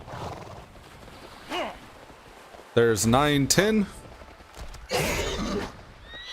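A horse mount in a fantasy video game neighs in bursts, with brief hoof-like sounds between the calls, while someone talks over the game audio.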